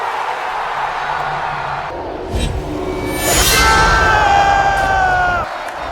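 A large film arena crowd in Gladiator II roars and cheers, the noise swelling loudly midway and holding at a steady peak with ringing, whooshing film sound effects layered over it before it drops away.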